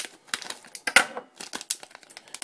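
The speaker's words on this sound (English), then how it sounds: "Take the next bag and my handy dandy scissors off screen. Cut into the bag." Scissors cutting into a crinkly plastic blind bag, with a close run of sharp snips and crackling rustles at an uneven pace.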